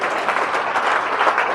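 A crowd claps steadily at a political rally in Satna, a dense wash of applause lasting a moment and holding an even level.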